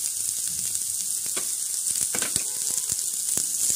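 Carrots, capsicum and green chillies sizzle steadily in a hot pan, a dense continuous frying hiss broken by several short scraping knocks as they are stirred.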